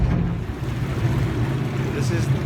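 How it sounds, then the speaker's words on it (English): Venice water bus underway on the lagoon, its engine giving a low steady churning rumble mixed with water wash and some wind, heard from on board at moderate loudness. "This is the water bus in Venice."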